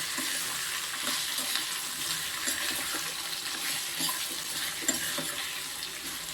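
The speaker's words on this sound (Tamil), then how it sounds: "இப்போ பைனாப்பிளை போட்டுருவோம். இதையும் இதிலே போட்டு நல்லா வறுத்துருவோம்." Pineapple pieces fry in ghee for a pineapple payasam, a steady close crackling sizzle with occasional stirring scrapes, no voices over it.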